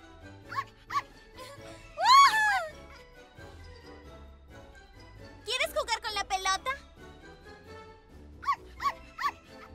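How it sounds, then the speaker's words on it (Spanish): A cartoon-style dog barks and yips in several short bursts, with bright high-pitched voices talking and exclaiming between them, close and clear. "¡Un perro! ¡Un perro!"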